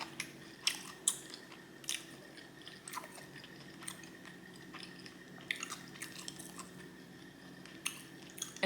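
Close, wet chewing and crunching of hot, spicy Popeyes fried food at a home Sunday dinner, with sharp crunchy bites at irregular intervals over a quiet background and no talking.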